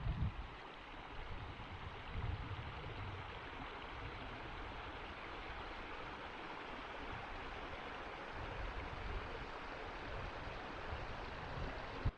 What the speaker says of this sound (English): Haunted Creek has a nice flow right now.